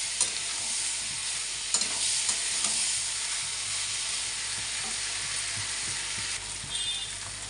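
Spice masala for a rohu fish curry is stir-fried in a pan with Kashmiri chilli powder, giving a steady close sizzle with scraping stirs throughout.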